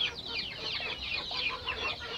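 Newly hatched chicks in a lamp-heated brooding pen give off a dense, continuous chorus of high, overlapping peeps and chirps, steady and fairly close throughout.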